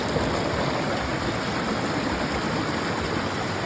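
A steady, close rush of clear water flowing over rocks in a mountain stream near Three Sisters, Oregon, constant and unbroken with no voices.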